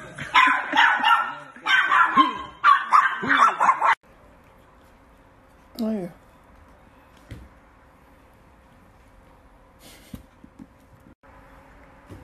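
A small Chihuahua lets out several loud, agitated barks and yips in quick bursts up close, followed by a brief whine and quiet room noise.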